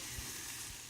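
A quiet, continuous sizzle rises from eggs cooking in a pan for an omelette, a soft steady hiss with no voices.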